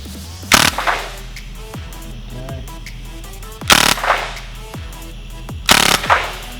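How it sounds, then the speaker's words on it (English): A MAC-11/G12 gel blaster fires three short rapid bursts through a chronograph, each a loud close rattle of shots, with mechanical clicks and handling noise in the gaps. "G12 Mach 11, let's chuck through the chrono"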